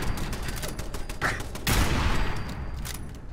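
Rifle gunfire in the video game Fallout 4, a dense burst of loud shots mixed with game sounds, with a heavier blast about halfway through.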